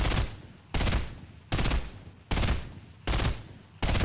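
Rapid gunfire rings out in a video game as a player shoots at a supply drop, coming as five loud, evenly spaced bursts, each cut off sharply before the next.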